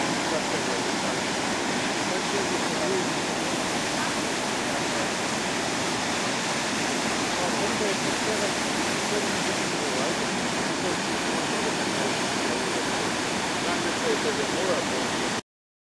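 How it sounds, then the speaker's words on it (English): Fast, heavy water roars down Pisew Falls in Manitoba, a loud, unbroken broadband rush close by that holds steady throughout with no voices. "No, the water's moving too fast."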